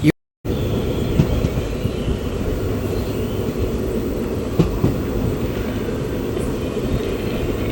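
Medak to Kachiguda unreserved passenger train 57302 rumbling along at steady speed, a loud continuous low roar with faint rattles and a couple of brief clanks, heard from inside with no talking.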